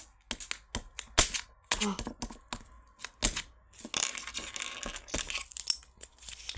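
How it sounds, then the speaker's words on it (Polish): A package holding a mini robot toy is torn open, giving a string of sharp, close rips and crinkling plastic or paper crackles in irregular bursts, fairly quiet overall. "A otworzymy ten paczkę"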